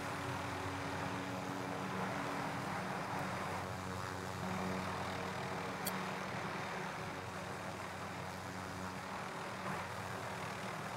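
A steady engine drone with a rotor-like hum fills the scene, a helicopter in flight in Call of Duty: Warzone heard continuously at moderate level without talk.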